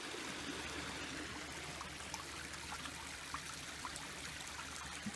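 River water flows steadily at close range in a steady babbling rush with small trickling splashes, alone and without voices, over a faint low rumble.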